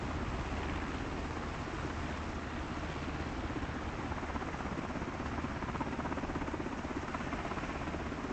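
A military helicopter in flight gives a steady, dense rotor and engine roar that fills the whole stretch without letup, loud and close with no voices.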